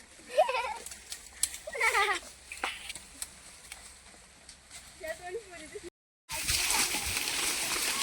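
Goats bleat several times in short wavering calls nearby, then the sound cuts to a loud rush of water or wind.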